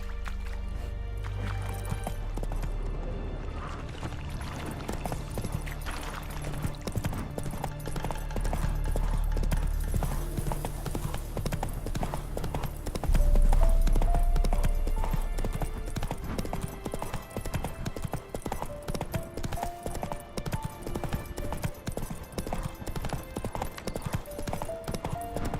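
Roach the horse gallops in The Witcher 3 with a steady, loud run of hoofbeats lasting throughout, over game music and ambience.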